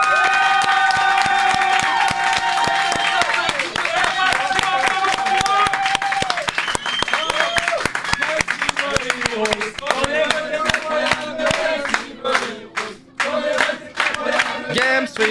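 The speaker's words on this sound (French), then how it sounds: "Un max d'applaudissements," Crowd at the Game Stream Heroes 2024 event applauding and cheering for streamers, loud sustained clapping mixed with shouts and singing voices, building into sharper rhythmic claps near the end.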